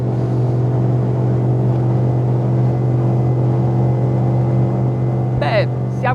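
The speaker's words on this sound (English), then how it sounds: "So easy that I feel like hearing this 8-cylinder sing." Loud, steady low drone of a Cranchi E26 Classic motorboat's V8 engine at high revs, over maximum engine speed, with a brief squeal or whistle near the end.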